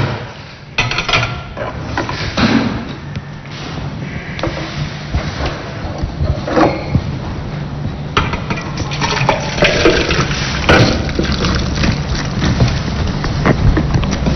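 Cooked vegetables and their juice poured through a colander into a salad bowl, a steady splashing, trickling stream of liquid close by with occasional clatters, no talking.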